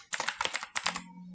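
Rapid keystrokes on a computer keyboard while a source command and backup file path are typed into a database console, two close bursts of clicking with a brief pause between, then a low steady hum.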